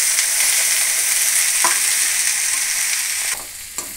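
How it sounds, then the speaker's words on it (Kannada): Okra (ladies finger) frying in a pan makes a loud, continuous sizzle while being stirred, with a few scraping strokes of the spatula, and the sizzle drops slightly near the end. "ಇದೊಂದು ಸ್ವಲ್ಪ ಚೆನ್ನಾಗಿ ಫ್ರೈ ಆಗಬೇಕು ಬೆಂಡೆಕಾಯಿ, ತುಂಬ ಚೆನ್ನಾಗಿ ಫ್ರೈ ಆಗಬೇಕು ಫ್ರೆಂಡ್ಸ್. ಹಾಗಾಗಿ ಕಲಿಸ್ತಾ ಇರಿ"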